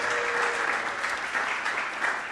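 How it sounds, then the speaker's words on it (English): An audience claps for event sponsors at a social media marketing gathering, a steady, moderately loud round of applause that continues without pause. "Let's give them a round of applause"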